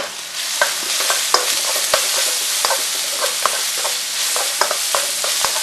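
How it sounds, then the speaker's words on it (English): Garlic and ginger sizzle steadily in a hot pan, with occasional sharp clicks and scrapes from stirring; close and loud, no talking. "we're just frying and softening that up"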